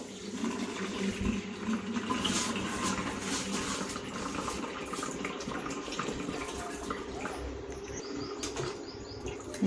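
Water pours and drains in a steady splashing stream for several seconds from soaked finger millet, with soft rustling and dripping, no voices.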